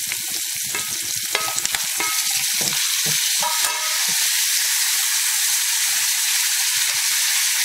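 Onion, garlic, curry leaves and tomatoes fry in a pan for a broad bean curry, making a loud, dense hissing sizzle with scattered pops and crackles early on that settles into a steady hiss. No one talks.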